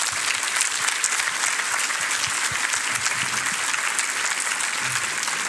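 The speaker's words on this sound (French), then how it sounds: "Je crois qu'on peut les applaudir." An audience at a conference talk applauds two speakers, steady dense clapping filling the room at an even level throughout, with no voices over it.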